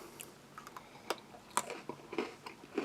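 Close, crisp crunching from someone chewing hard cinnamon-flavoured fruit biscuits from an out-of-date Dutch army combat ration, with irregular bites and crackles spread across a few seconds, no talking.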